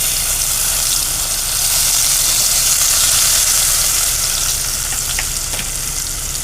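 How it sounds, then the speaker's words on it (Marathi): Curry leaves and onion frying in hot oil, a dense, steady hiss and sizzle heard close and fairly loud for the whole stretch, with a couple of faint utensil taps near the end and no speech. "आता आपण टाकू याच्यात कढीपत्ता आणि कांदा."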